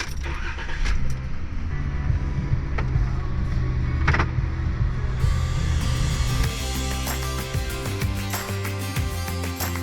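A camper van on a road trip in mainland Mexico pulls away, its engine rumbling low and steady up close, with keys jangling and interior rattles and clicks on top.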